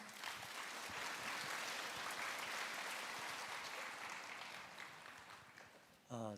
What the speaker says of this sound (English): So let's welcome him to the stage with a round of applause